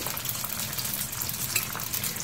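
Spring rolls (nems) fry steadily in hot oil in a pan, giving a continuous close, dense sizzle with fine crackling spits throughout and no talk.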